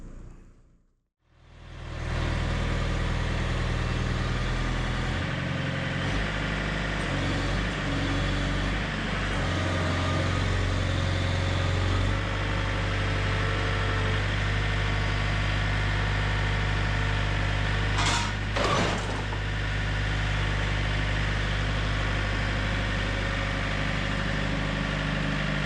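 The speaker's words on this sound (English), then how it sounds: "get the equipment lined up, warmed up, get a log loaded" Sawmill equipment engines idle as they warm up before a large log is loaded, a steady low mechanical drone with a short knocking burst partway through.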